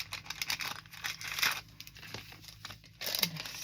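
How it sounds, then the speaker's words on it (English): Vintage paper ephemera slides into an envelope with close, crisp crinkling and rustling, a few soft bursts of paper handling coming in quick, uneven handfuls. "Put these in this envelope,"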